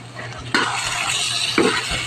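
Grilled eggplant goes into a pan of sautéed tomatoes, with a sharp clatter and soft thuds of food landing, then a brief stir against the pan under a steady background hiss.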